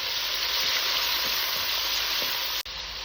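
Tomato, crushed ginger and green chili sizzle steadily in a hot pan on the stove, a continuous close, dense frying crackle with a brief dip near the end.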